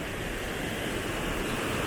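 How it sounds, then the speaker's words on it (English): Dense, steady roar of churning water at the Great Falls overlook, loud and continuous with no pauses. "Water is churning,"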